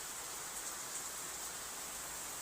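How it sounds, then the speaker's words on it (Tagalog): Heavy rain from Typhoon Ramil pours down in a steady, faint hiss with no breaks or other sounds. "Medyo lumalakas na ang ulan."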